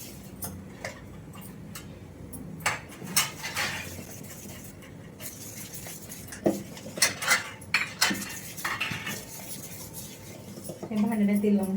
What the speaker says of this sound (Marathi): हे भांड्यात तेल लावून घेते तुम्ही.